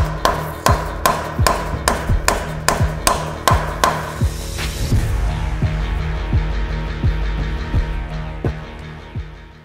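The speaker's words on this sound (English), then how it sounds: "To install the pilot bearing, you can use a bearing driver, a socket, or anything that's smaller in diameter than the inside of the crank" A bearing driver hammers a pilot bearing into a JZ to CD009 transmission adapter, with a run of sharp, evenly spaced metallic strikes up close at first, then heavier, more spaced blows over a lingering ring.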